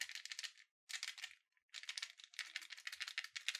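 POPMART clear glitter vinyl toy with little balls and sand inside being shaken close up, three bursts of fast light rattling separated by short pauses.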